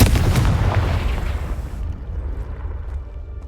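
A Confringo fire spell blasts in Hogwarts Legacy, a loud booming burst up front that rumbles and fades over a few seconds.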